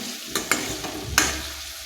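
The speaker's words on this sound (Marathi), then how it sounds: "आता आपल्याला कांदा आलं लसूण पेस्ट चांगले गोल्डन हो ब्राऊन होईपर्यंत परतून घ्यायचे आहे" Onion and ginger-garlic paste sautéed in a pan until golden brown, a soft continuous sizzle broken by a few distinct spatula knocks and scrapes, near and moderately loud.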